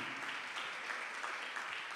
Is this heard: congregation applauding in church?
yes